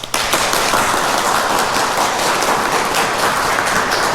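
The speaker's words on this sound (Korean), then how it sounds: "우리 박수 한번 쳐줍시다" A church congregation applauding during Mass, steady dense clapping that starts abruptly and fills the whole stretch at close, even loudness.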